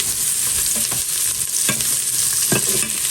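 Onions sizzle steadily in a smoking-hot pan, a dense bright hiss broken by a few scraping stir strokes, loud and close with no voices.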